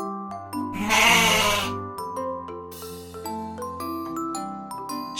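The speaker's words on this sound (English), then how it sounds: "Goat," In a children's farm-animals song, a goat bleats loudly in two short bursts over bouncy background music.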